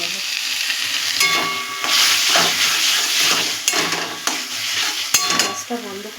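Taro leaves (kochu shak) with sprinkled fried spices are stirred in a sizzling pan. The steady frying hiss is broken by repeated scrapes and clinks of a utensil against the pan, close and loud, with no talking.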